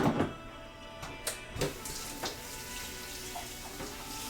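Something is rinsed quickly under a running kitchen tap, with a faint stream of water broken by a few soft knocks and splashes.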